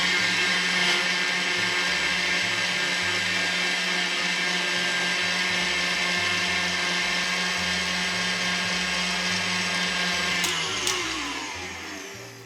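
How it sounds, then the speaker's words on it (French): An electric mixer beats egg yolks with powdered sugar, giving a loud, steady whirring drone that runs unbroken for about ten seconds before winding down. "Je vais continuer de battre mes jaunes jusqu'à ce que le mélange blanchisse et double de volume."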